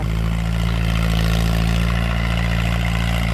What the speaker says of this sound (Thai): อ่ะเดี๋ยวมาชม ความแรงของเทอร์โบใหม่ของ M8540 กันหน่อยนะครับ เสียงนี่กีดจัดขนาด